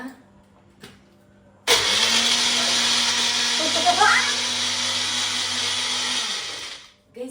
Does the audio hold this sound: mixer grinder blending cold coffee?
yes